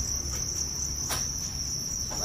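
Crickets chirp without pause on a cricket farm, a dense, steady high trill sustained alone throughout, with a faint low hum beneath.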